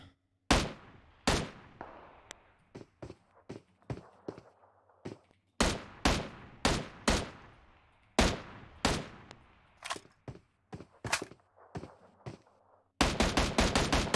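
Sharp gunshots from PUBG Mobile in scattered single cracks and short bursts, loud and close with decaying tails, ending in a rapid automatic volley, with no talking.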